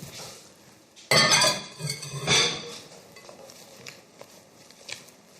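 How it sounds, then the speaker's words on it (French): Dishes and utensils being set aside in a home kitchen while baking a banana cake, with sharp clinks and clatters in two loud bursts followed by softer scattered taps. "Je me mets la vaisselle de côté."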